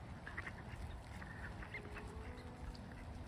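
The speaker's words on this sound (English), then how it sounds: "The ducky gang is coming." Ducks being hand-fed outdoors on an October morning give several soft quacks and honks in quick succession, fairly quiet and set against faint outdoor background noise.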